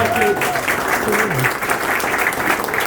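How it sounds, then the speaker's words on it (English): Wedding guests applauding after a groom's speech in the UK, a sustained wash of clapping from a room full of people, with a voice speaking over it near the start. "Round of applause for Greg, everyone."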